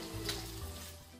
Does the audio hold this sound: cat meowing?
no